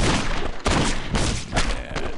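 Video game gunfire crackles in a dense, continuous burst of rapid shots with a few sharper peaks, loud and close, without any speech over it.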